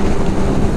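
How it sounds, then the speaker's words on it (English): Wind buffets the microphone outdoors, a steady loud rumbling roar with no break over the short stretch and no voices. "this wind is just not your friend"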